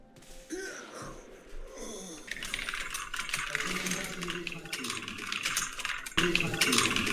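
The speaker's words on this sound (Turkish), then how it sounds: "Zaten klavye sesin rezalet durumda" Rapid clicking of a computer keyboard during online gaming, dense continuous typing close to the microphone, with background game sounds and some muffled vocal noise underneath.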